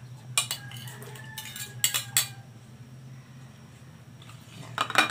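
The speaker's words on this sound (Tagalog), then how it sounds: "ilagay na natin sabay-sabay yung ating daing, chili, sibuyas, loya, at bawang" Dried fish, chili, onion, ginger and garlic tumble into a pan for ginataang sitaw at ampalaya, giving several metallic clinks and scraping knocks in short bursts over a steady low hum, with no talk.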